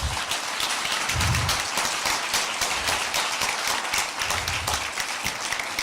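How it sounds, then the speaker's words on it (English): Audience at a mayoral forum in Hoover gives a round of applause, steady dense clapping from a seated crowd lasting several seconds, with a few low murmurs underneath. "Give them a round of applause."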